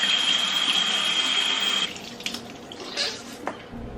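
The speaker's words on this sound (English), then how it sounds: "Let's wash our hands first." Tap water runs steadily into a sink during handwashing in a home kitchen, a continuous broadband rush that stops partway through, followed by faint handling sounds.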